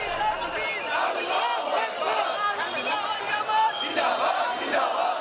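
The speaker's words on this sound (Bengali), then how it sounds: "নারায়ে রিসালাত ইয়া রাসূলুল্লাহ, আল্লাহু আকবার স্লোগানে মুখর চারদিক।" A large crowd at an Eid-e-Miladunnabi procession chants religious slogans together, many voices rising and falling in loud rhythmic cries that fill the street from close by.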